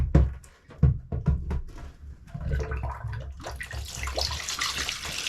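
A few knocks and clunks, then water gushing and splashing out of an aquarium, growing into a steady rushing hiss.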